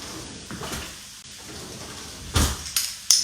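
A kitchen drawer pulled open while a garlic press is fetched, a few short close sliding knocks and clatters in a quiet room, with a louder burst near the end.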